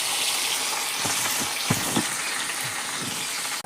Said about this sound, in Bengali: এই যে মাছ ভেজে নিচ্ছি